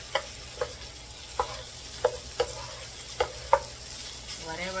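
Salmon fried rice stir-fried in a pan: a low background sizzle punctuated by about eight sharp, evenly spaced spatula scrapes and taps, close and clear, with no talking.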